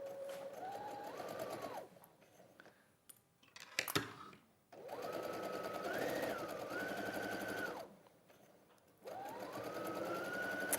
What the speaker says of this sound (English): we're going to just stitch along there